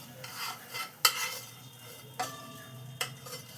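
Butter sizzles softly in a hot pan for pav bhaji, with three sharp metallic taps from a utensil striking the pan above the quiet crackle.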